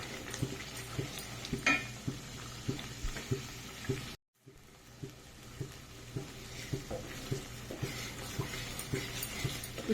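A ladle keeps scraping and stirring onion masala frying in plenty of oil, with steady sizzling under regular clinks and scrapes, one brief dropout partway through, and no voices.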